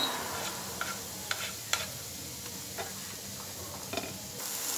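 Beans, capsicum and green chili sautéing in a pan, a soft steady sizzle with scattered sharp ticks and scrapes of stirring throughout, close and fairly quiet, no voices.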